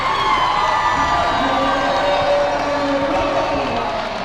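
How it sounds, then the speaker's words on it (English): A basketball arena crowd at a men's college game against Lipscomb cheers and shouts in a loud, continuous roar of many voices, with no single voice standing out. "Crowd beginning to get into it as well."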